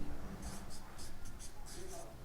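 A pen scratches across paper in short repeated strokes while a maths solution is written out, close and fairly soft, with a voice speaking faintly in the background.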